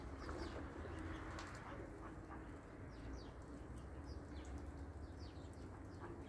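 Racing pigeons at a home loft coo softly and continuously, with faint scattered chirps and a distant dog over a low outdoor hum; no one speaks.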